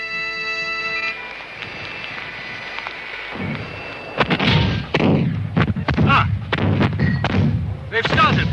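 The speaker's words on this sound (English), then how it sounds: "The rebel cannon have opened fire." Rebel cannon opening fire at the Battle of Culloden: after a quiet stretch, a run of loud, booming artillery blasts arrives in irregular succession, each a heavy thud with a rumbling tail.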